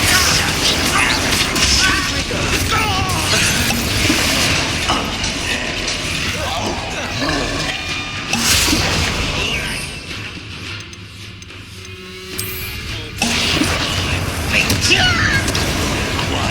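Spell blasts in Hogwarts Legacy combat, Bombarda and Confringo fire spells, with repeated booms, cracks and crashes over busy game sound, loud and near, with a quieter lull partway through.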